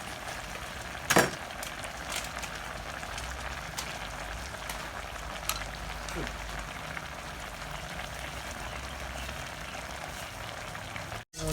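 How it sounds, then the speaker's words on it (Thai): Garlic frying in a pan, a steady close crackle and sizzle of oil running throughout, with a few brief louder clinks and scrapes of the utensil. "ที่สองค่ะหัวเจียวกระเทียมให้หอมๆกันนะคะ"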